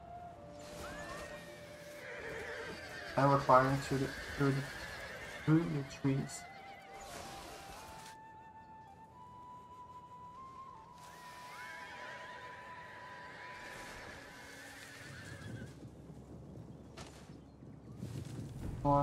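Armored horse archers in the battle game Total War Rome 2 whinny and stamp in a sustained mid-distance battle bed, with sharp bursts of neighing and hoof clatter early on, while someone talks over much of it.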